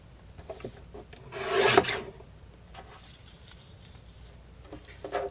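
Paper being cut for a scrapbook page, a short rasping scrape of the cut near the middle, surrounded by faint handling rustles and taps, close and fairly quiet.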